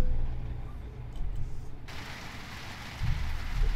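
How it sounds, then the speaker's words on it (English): Rain falls in the truck-driving video game American Truck Simulator, a steady hiss of moderate loudness that brightens and thickens partway through, with low rumbling engine noise beneath. "Well, sounds like we got some rain."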